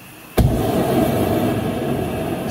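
Hot forged steel blade quenched, a sudden loud whoosh and crackle at the plunge followed by a sustained rushing, sizzling roar that stays steady to the end.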